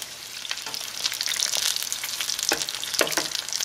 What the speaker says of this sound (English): I have it seared exactly how we need to have it.